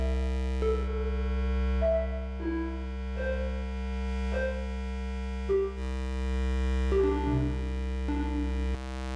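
Luna Lunetta synthesizer through a low-pass filter and reverb, sustained low drone under a slow sequence of soft, reverberant pitched notes stepping up and down, steady and moderately quiet.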